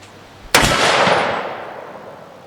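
A single loud, sharp .30-06 rifle shot with 150 grain soft point ammunition fired at a steel plate on a range, its blast trailing off into a long echo.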